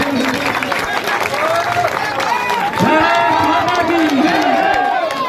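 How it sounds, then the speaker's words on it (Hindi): A large crowd at a village election rally applauds and cheers loudly, sustained clapping mixed with shouts and whistles throughout. "जोरदार तालियों से स्वागत।"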